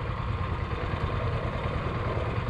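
A longtail mud motor fitted with a Hurricane prop idles in a steady, low, rumbling drone with an even mechanical chatter, close and continuous with no pauses.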